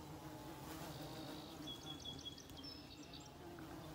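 Carpenter bees buzz faintly around a house outdoors, a soft, thin drone with a few brief chirps over a steady low background.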